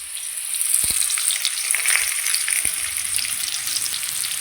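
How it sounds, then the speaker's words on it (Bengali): Potatoes fry with salt in an oiled pan, with black seeds tempered in the oil, for a hilsa fish curry. A steady, close sizzle runs throughout, with a few soft clinks of stirring. "আলুগুলো নুন দিয়ে ভেজে নেব।"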